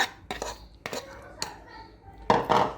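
A spoon works a pilchard fish mixture in a bowl, giving a few close scraping and clinking strokes, the last one a longer, heavier scrape.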